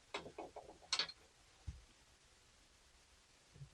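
A screwdriver fastens a directional air vent back onto an E Pro travel trailer, heard as a short burst of quiet mechanical clicks and ratcheting at the start, then near silence.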